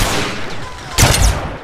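Gunfire in the GTA game, a loud burst of several close rapid shots crackling over a noisy, rumbling background.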